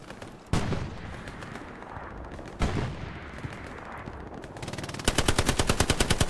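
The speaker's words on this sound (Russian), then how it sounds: "По звуку там какая-то танковая перестрелка" Gunfire rattles through a World War II shooter battle in Hell Let Loose: two sharp heavy blasts, scattered shots, then a steady, loud run of rapid machine-gun fire closing out, with no voices.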